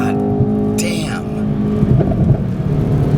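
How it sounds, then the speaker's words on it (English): Mercedes-Benz E63 S AMG station wagon, 602 hp, pulling hard under acceleration with a deep, steady exhaust drone and engine harmonics from inside the cabin, with speech over it throughout. "And the sound from the exhaust."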